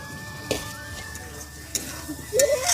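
Fried potatoes are stirred into spice masala in a pan, with a few sharp spoon taps and scrapes over a faint sizzle, fairly quiet and close.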